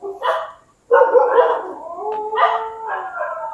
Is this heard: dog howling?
yes